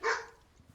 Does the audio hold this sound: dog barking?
yes